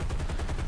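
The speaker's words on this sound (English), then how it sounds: "So I fire a burst to empty the machine gun so that he will reload" A short, rapid burst from a B-17 tail gunner's machine gun in War Thunder, fired to empty the gun before reloading: a quick string of loud, tightly packed shots heard close up and alone.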